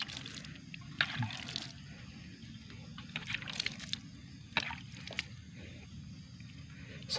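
Quiet splashing and sloshing as chili plant roots are swished and rinsed in a container of water, with soft drips and small splashes.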